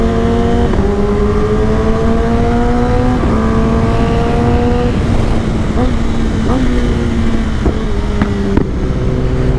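Superbikes ridden together on an early-morning highway, including a ZX-10R, BMW S1000RR, Triumph Street Triple 765R, Kawasaki Z1000 and Suzuki Hayabusa, with loud continuous engine drone rising and dropping through several gear shifts.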